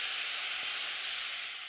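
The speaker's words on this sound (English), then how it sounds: "red wine vinegar into that very hot pan to have a few drops of that on tip" A steady, bright hiss of red wine vinegar hitting a very hot pan, constant and fairly quiet, fading slightly at the end.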